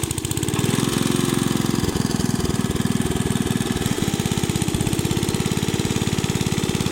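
A lawn mower engine runs steadily and loud up close as it cuts grass, with a rapid, throbbing pulse that roughens partway through. No voices are heard.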